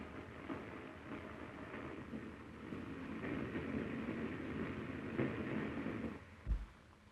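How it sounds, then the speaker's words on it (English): The Lakes Express steam train speeds north toward the Lake District, a continuous close rumbling roll with clattering wheels over the rails and a brief heavy thump near the end. "still the train speeds on"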